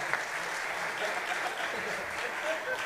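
Steady applause from a jazz ensemble concert audience fills the whole stretch, a dense even clatter of many hands clapping at a constant level.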